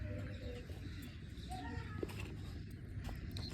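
Pigeons coo softly amid a constant, noisy background, with the low calls only partly standing out from the din.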